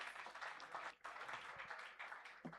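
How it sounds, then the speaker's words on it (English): An audience at a university accountancy department symposium claps in a steady, fairly faint wash of applause that carries on throughout, dipping briefly once before picking back up. "can we have a round of applause for accountancy department?"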